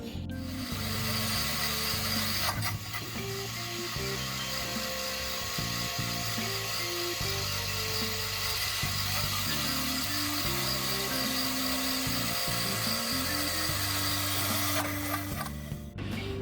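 Power drill boring through steel exhaust manifold flanges on a Toyota Celica RA64 with a 1UZ V8 swap, a steady close whirring grind with shifting pitch over a constant shop background, no talk.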